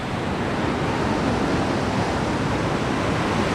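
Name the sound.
strong flood water rushing after heavy rain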